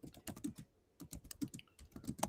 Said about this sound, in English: Free Market's typing an essay over there.